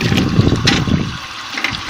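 Water gushes steadily from the open pipe of a DC water pump, a close, continuous rushing splash that softens slightly toward the end.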